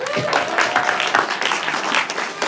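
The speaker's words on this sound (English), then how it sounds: "Give them a round of applause for that." A charity event Q&A audience gives a round of applause, steady mid-loud clapping spread across the room for the whole stretch, with faint voices mixed in.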